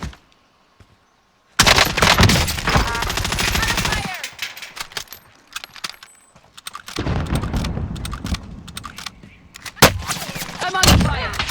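Rapid bursts of automatic gunfire and sharp shots crackle through a Call of Duty Warzone firefight, loud and close. The volleys come in dense clusters broken by short lulls.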